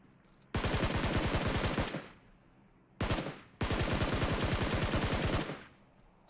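Automatic gunfire from a battle royale shooter video game rips out in two long, loud bursts, the second running about two seconds, with a short burst starting near the end.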